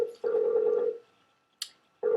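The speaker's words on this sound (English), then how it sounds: "you're going to hear us calling" A phone call being placed for a live online show: a steady ringback tone sounds twice with a pause between, near and clean, with a brief click in the gap.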